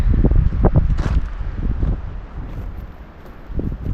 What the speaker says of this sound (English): it's a little too windy even to try to start a fire